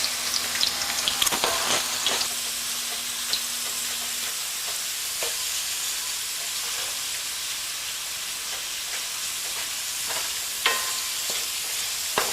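Steady crackling sizzle of bok choy potstickers frying in hot oil, with occasional louder pops and spatters, close by and continuous without any talking.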